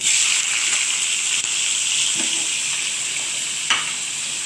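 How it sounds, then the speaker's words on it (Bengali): Prawns frying in hot oil in a pan, a loud steady close sizzle with a couple of brief stirring knocks, no talk. "এদিকে আমি চিংড়ি মাছটা ভেজে নেব আলাদা করে"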